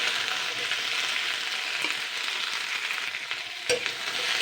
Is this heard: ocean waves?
no